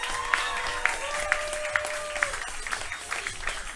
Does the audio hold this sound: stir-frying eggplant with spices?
no